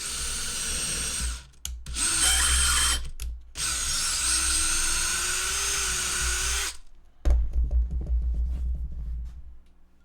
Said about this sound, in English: This is the worst stuff to drill through ever.